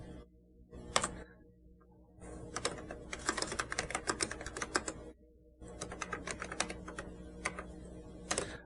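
Keys are pressed on a Xerox Star computer keyboard in bursts of rapid clicking and tapping, separated by short pauses, close and fairly quiet with no talk.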